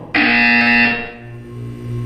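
A loud electronic buzzer from the video game Portal 2 sounds abruptly, holding a harsh steady tone for about a second before dropping to a lower, softer hum that lingers.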